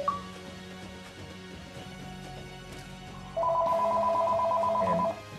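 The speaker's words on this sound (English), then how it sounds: "Some guy in the press box, turn your cell phone off." A cell phone rings in a stadium press box during a college football bowl game: a short electronic ringtone chirps at first, then a louder, sustained tonal ring blares for a couple of seconds before cutting off.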